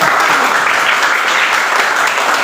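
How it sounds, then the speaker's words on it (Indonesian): Steady applause from a group in a classroom, dense and continuous throughout with no pauses. "Tepuk tangan."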